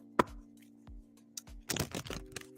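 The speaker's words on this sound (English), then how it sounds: "But let's shuffle for Philomena." Tarot cards are shuffled by hand at close range in short, uneven bursts of papery flicks and riffles over a faint steady hum, louder toward the end.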